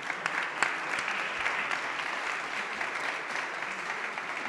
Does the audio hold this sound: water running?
no